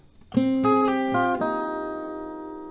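An acoustic guitar plays a short extra melody, a handful of picked notes in quick succession that ring out and fade, played alone.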